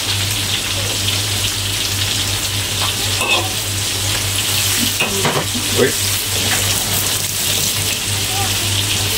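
Sliced onions sauté in a pan for Malaysian ayam masak lemak ketumbar, giving a steady, close sizzle with a few stirring scrapes over a constant low hum.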